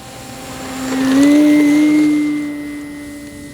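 An E-flite Pilatus PC-21 RC model airplane with a two-bladed prop flies past on a quick demo flight at a runway, its quiet electric whine rising to a brief close pass and then fading away.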